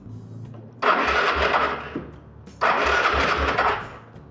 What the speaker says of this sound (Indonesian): Lalu kita bisa melakukan pengengkolan atau menendang kick starternya, atau juga bisa dilakukan menekan tombol starter.